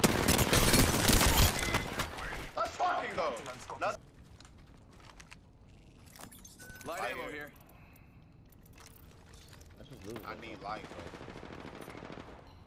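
Apex Legends video game gunfire, with a loud rapid burst of automatic shots up front and then fainter scattered shots and clicking as people talk over the action.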